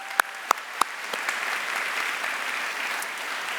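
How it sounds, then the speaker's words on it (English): Applause at a National Philanthropy Day event starts with a few sharp, separate claps that quickly give way to steady, moderately loud crowd clapping sustained to the end. "So one last round of applause for everybody who made this possible."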